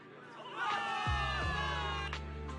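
Crowd of soldiers cheering for victory in the video game Zenless Zone Zero, a swelling burst of mixed voices and shouts layered over steady game music, loud and sustained.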